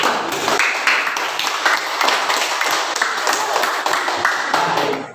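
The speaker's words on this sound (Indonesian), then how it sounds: "Tepuk tangan sekali lagi untuk kelompoknya." A classroom of students applauds a group after their presentation, steady dense clapping filling the whole stretch at close range with no talk over it.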